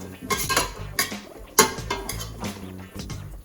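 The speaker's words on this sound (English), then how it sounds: "And now I'll cook the sprouts and potato together" Mung bean sprouts and potato cook together in a pan, heard as a utensil clinking and scraping against the metal in irregular strokes, with one sharp louder knock midway and a faint low hum underneath.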